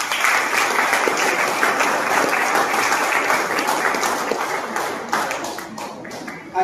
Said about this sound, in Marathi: थोड्याशा टाळ्या.